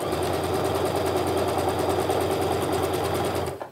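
A sewing machine stitches a quilt block seam in a steady rapid mechanical chatter for over three seconds before stopping abruptly, close and alone.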